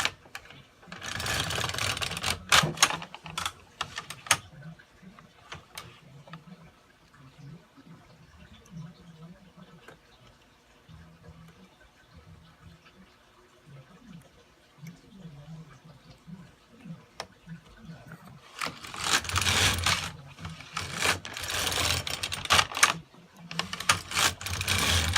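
A hand-operated knitting machine carriage, such as an LK100, LK150 or KX350, is pushed across the needle bed in bursts of rapid mechanical clatter, with quieter clicking between passes.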